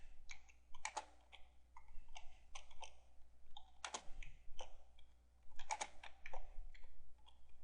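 Quiet computer-keyboard typing in short bursts of rapid clicks, with a few sharper single keystrokes and pauses between flurries, heard close up with no voices.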